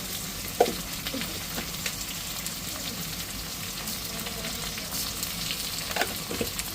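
Fennel seeds, garlic and spices sizzle steadily in a hot pan, with a few soft stirring scrapes and clinks over the continuous crackle.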